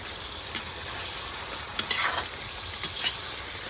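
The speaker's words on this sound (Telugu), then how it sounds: "మిరియాల పొడి వేసి మంచిగా కలుపుకొని మంచిగా ఉడకాలి" Chicken pickle frying in a pan with pepper powder being stirred in gives a steady close sizzle, broken by a few sharp scraping clicks of the spoon against the pan.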